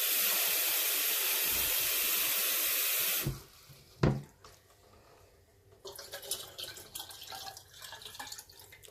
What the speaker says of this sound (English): So that's 8 cups of water that I've added to my batch.